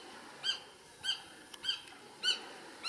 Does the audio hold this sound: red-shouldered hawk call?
yes